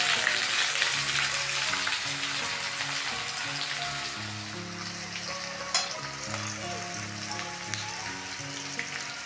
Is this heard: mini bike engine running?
no